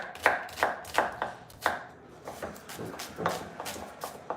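A knife chops onions on a cutting board in a home kitchen, about a dozen crisp, uneven knocks spaced a few tenths of a second apart, close and fairly quiet.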